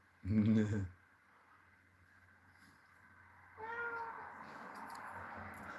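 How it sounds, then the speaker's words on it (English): A single loud cat meow near the start, followed by quieter voices talking in the background. "That's the cat."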